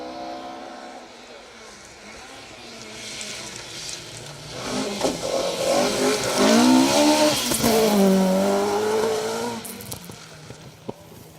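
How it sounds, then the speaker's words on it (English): A 2-litre Ford Mark II Escort rally car is on a forest rally stage. Its engine builds from a distant drone to a loud, high-revving roar with rising and falling revs as it passes, then fades away. "To slightly older machinery now, with the Mark II Escort."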